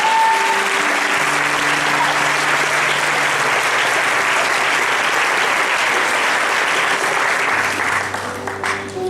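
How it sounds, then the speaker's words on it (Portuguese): A church congregation applauds at a worship service, dense steady clapping filling the room for about eight seconds with a faint sustained tone beneath, thinning out at the end. "Você pode aplaudir o Senhor, querido?"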